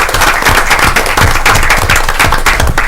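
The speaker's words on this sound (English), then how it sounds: "So let's give them all a big round of applause." Loud, dense applause from a council meeting audience, steady clapping filling the whole stretch without a break, close and continuous.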